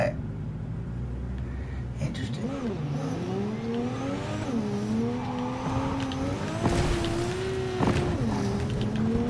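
A car engine revs and surges in rising and falling waves, with a brief squeal and a couple of sharp knocks midway. The mix of motor drone and bursts sounds like a busy, close drive.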